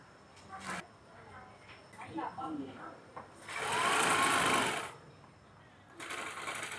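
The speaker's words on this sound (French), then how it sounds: "une dame en train de confectionner une belle robe" A sewing machine stitching a dress runs in one loud sustained burst amid the bustle of a tailors' stall at Battambang's Phsar Nat market, with people talking nearby before and after.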